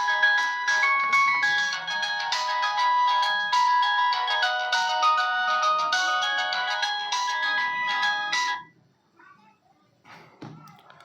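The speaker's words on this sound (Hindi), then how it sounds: "सॉरी वो फ़ोन बज गया था।" A phone ringtone plays a bright, looping electronic melody loudly for about eight seconds, then cuts off, leaving a quiet room with a few soft thumps and faint movement.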